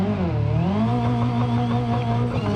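A 200BX car engine in BeamNG.drive revs hard on a launch, a loud, steady engine tone that dips briefly and then climbs in pitch as it pulls away.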